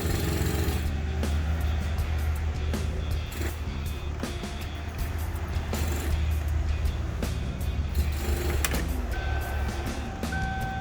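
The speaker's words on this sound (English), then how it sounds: "That noise you're hearing is the vacuum pump" A vacuum pump runs during a convertible top installation, a steady mechanical hum with a low, constant drone, joined by faint clicks and a thin high tone near the end.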